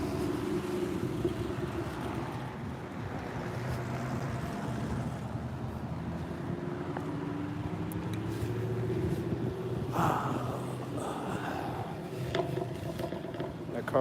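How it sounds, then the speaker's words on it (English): A car engine idling and rumbling on a street close behind, a steady low drone holding throughout with traffic around and a brief louder burst near the end. "That car is making engine sounds behind me, farting right now."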